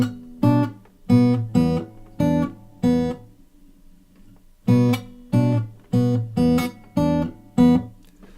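Guitar playing the first two bars of a song, short rhythmic plucked-and-muted chord stabs in two phrases separated by a brief pause, close and clear with no talking.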